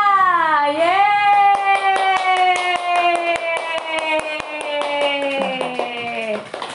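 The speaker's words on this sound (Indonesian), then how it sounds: "Tepuk ma. Tepuk ma." Family members clapping at a home birthday celebration, with a dozen or so sharp, evenly spaced claps over a sustained sung tone.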